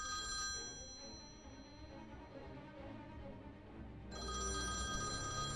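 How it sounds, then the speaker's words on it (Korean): A telephone rings steadily with a bright, shrill electronic tone under a faint hiss, growing louder toward the end. "반대 세력인 꾸이즈만이 그에게 전화를 걸어"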